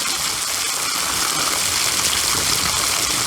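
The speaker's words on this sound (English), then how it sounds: "I try to avoid the leaves. Just water in between the plants." A steady stream of water pours onto soil between young tobacco plants, giving a close, continuous hissing gush with no speech.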